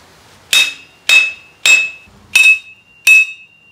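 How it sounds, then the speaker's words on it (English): Five sharp, ringing blows from a heavy hammer strike metal at a steady pace, knocking out a part on a Yamaha YFZ450 ATV, each clang loud and close with a brief metallic ring-out. "We're gonna use the basher hammer and we're just gonna crank that thing out of there."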